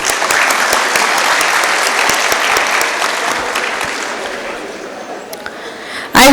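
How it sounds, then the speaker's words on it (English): Dense applause from a convocation crowd honoring graduates and parents, sustained and loud for about six seconds before ending abruptly. "A big round of applause for everyone"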